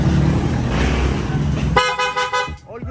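A Piaa horn newly installed on a Sniper 150 motorcycle blares in a loud, close honk near the end, following a rough engine rumble; the horn cuts off abruptly.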